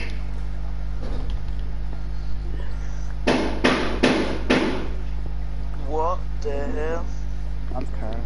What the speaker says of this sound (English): Vinny must be hammering something again